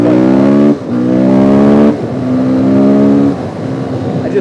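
Husqvarna motorcycle engine revving hard as the throttle rolls on, a loud close harmonic drone rising in steps with brief dips between gear pulls, wind noise underneath.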